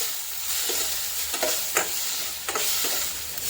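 Onion and tomato sauté in oil in a pan, a steady sizzle broken by scraping stirs and spoon knocks, close and fairly loud, with no talking.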